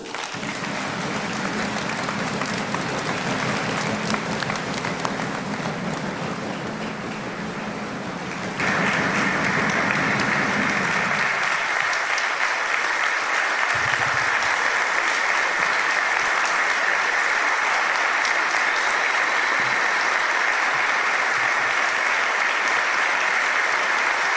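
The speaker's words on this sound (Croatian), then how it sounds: "Pozdravite pljeskom svjedoka tog povijesnog vremena i prvog predsjednika mladeži Hrvatske demokratske zajednice, gospodina Marija Kapulicu." A large audience at a 25th anniversary event for a political youth organization in a Zagreb exhibition hall breaks into sustained applause, a dense wash of clapping that swells louder partway through and continues without pause.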